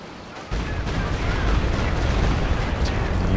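Dense battle gunfire from a Company of Heroes 2 match, with a machine gun firing through the centre amid a steady roar of shots and explosions that continues without pause throughout.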